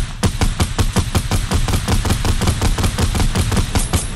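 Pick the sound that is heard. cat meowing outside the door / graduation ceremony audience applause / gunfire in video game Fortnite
gunfire in video game Fortnite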